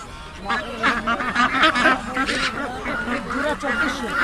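Ducks quacking amid a busy traditional village market crowd, with several overlapping calls close by under steady chatter and people talking throughout.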